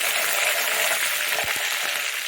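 Chopped green chilies and curry leaves sautéing in hot oil in a pan: a loud, steady, close hiss of sizzling that continues unbroken throughout.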